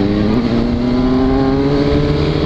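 A Yamaha XJ6 motorcycle engine is revved hard and held at high throttle, a loud, close, continuous roar whose pitch climbs slightly, with no voices.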